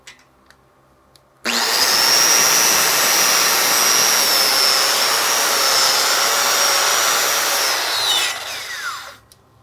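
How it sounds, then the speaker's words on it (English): A wire wheel whirs loudly as it cleans an overhead hardwire weld on a T plate, spinning up suddenly, holding a steady high grinding whine for several seconds, then winding down. "I'm going to take our wire wheel here, give it a nice clean."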